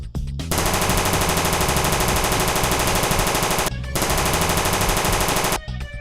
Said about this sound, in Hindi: जैसे ही कलवा को बंदूक के गोलियों की आवाज सुनाई देती है तो वो डर जाता है